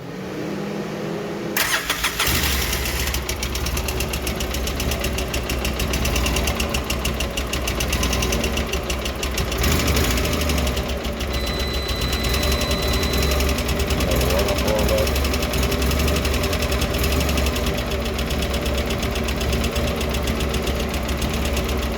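A cold Polaris Ranger/Sportsman 700 engine starts abruptly after a brief quiet moment, then runs steadily at a loud, close idle with a mechanical knocking clatter throughout; a thin electronic beep appears briefly midway.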